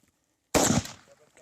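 A single loud gunshot from a firearm on a Namibian reserve cracks out abruptly after a brief silence, followed by a decaying echoing tail and faint background noise.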